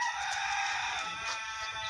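A chicken or rooster crows on a pig farm, a single drawn-out strained call held for about two seconds, moderately loud and close with no talking.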